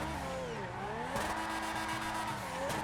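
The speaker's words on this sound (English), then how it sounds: "Drifting though from wheel spin in a truck." A truck fitted with Formula 1 wheels spins its tires in Grand Theft Auto 5, with a sustained engine drone and a long squealing screech that rises and dips as it slides, loud and close throughout.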